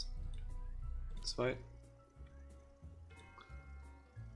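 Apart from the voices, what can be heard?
watering plants in Two Point Hospital video game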